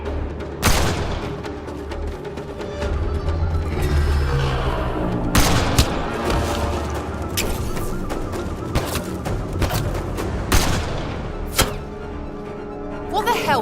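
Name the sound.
gunfire in video game Mass Effect: Andromeda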